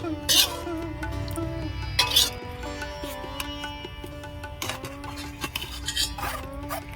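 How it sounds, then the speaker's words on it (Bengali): A spoon scrapes and clinks against a metal sieve while tomato pulp is pushed through it, with intermittent rattling bursts over a low hum and soft background music. "এইভাবে আমি নাড়িয়ে নাড়িয়ে ভালো করে ছেঁকে নেব"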